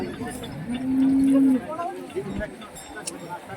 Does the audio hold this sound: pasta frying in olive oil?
no